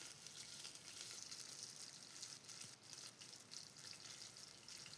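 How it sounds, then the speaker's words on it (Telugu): Onions, mustard seeds and curry leaves fry in hot oil for a chicken curry, producing a faint, steady hiss and fine spattering crackle with no voices. "ఇదంతా బాగా 1 మినిట్ ఆయిల్లో బాగా ఫ్రై అవ్వాలా."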